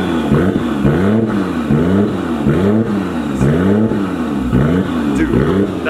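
A Nissan R32 GT-R engine revs on a dyno in a loud, steady cycle of rising and falling pulls, each swelling and dropping back about every second.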